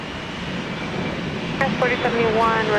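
A Republic Airways airliner at Minneapolis–St. Paul Airport gives a steady, broad engine roar heard from a distance, with a voice talking over it in the last second or so.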